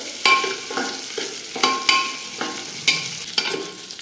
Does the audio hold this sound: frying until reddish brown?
yes